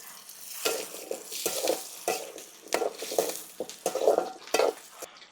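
Onion, garlic, tamarind and tomato are sautéed in a pan, heard as repeated bursts of scraping and stirring over a quiet sizzle, with short pauses between strokes.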